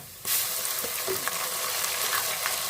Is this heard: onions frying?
yes